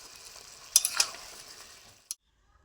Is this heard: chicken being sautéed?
yes